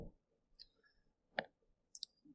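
Calculator keys pressed one at a time while entering a trig problem with fractions, giving a few sparse, sharp clicks spread over a couple of seconds, close and fairly quiet, with no talking.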